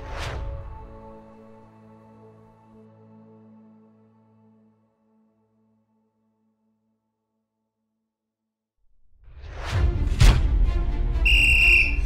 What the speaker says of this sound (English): When I hear the sound of that whistle,